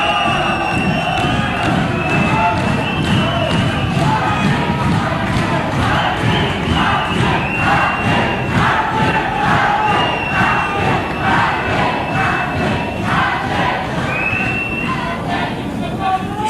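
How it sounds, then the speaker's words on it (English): A restless boxing crowd at a 1989 bout cheers and shouts loudly and continuously, a dense roar of voices with rising yells and whistles filling the arena between rounds. "And the crowd impatient."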